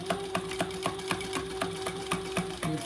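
A sewing machine runs an 1/8 inch top stitch along a shoulder bag flap, a close, steady, rapid stitching rhythm over a constant motor hum, with no voices.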